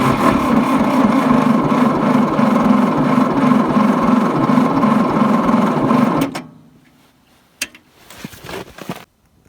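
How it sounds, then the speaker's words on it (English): A John Deere 1010 dozer diesel engine cranks over steadily on the starter with a fast rhythmic churning for about six seconds without firing, then stops and leaves a few faint knocks and clanks. "Let's try to turn it over and see if we get fuel."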